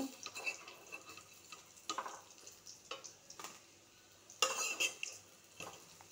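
Fried karela (bitter gourd) lifted from a pan of hot oil, with soft sizzling beneath a few scattered metallic scrapes and clinks of a utensil against the pan, quiet and close.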